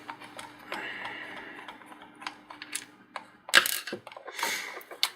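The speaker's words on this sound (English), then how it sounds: "Get the screws out." A screwdriver backs screws out of an old serial/PS2 ball computer mouse, giving quiet, close ticking and ratchet-like clicks with small plastic scrapes and a couple of sharper taps near the end.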